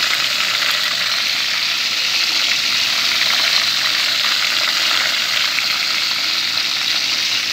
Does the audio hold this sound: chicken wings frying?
yes